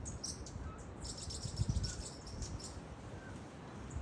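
Birds chirp and call from trees in Central American crested guan habitat, thin high notes repeating faintly over a soft hiss of insects, with a few low thumps partway through.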